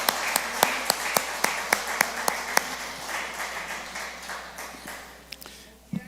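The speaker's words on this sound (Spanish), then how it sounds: "un aplauso al Señor por eso" A church congregation applauds, a run of sharp rhythmic claps at first that loosens into a dense, reverberant wash of clapping and then fades out.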